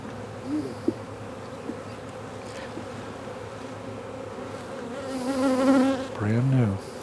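Honey bees buzz steadily around crowded hive colonies, a dense close drone with individual insects swelling louder as they pass near, several loud fly-bys toward the end.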